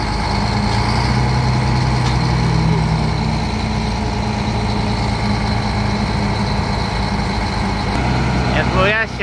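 A Shacman dump truck's heavy diesel engine runs with a deep, continuous rumbling idle close by, loud and steady throughout, while people talk over it.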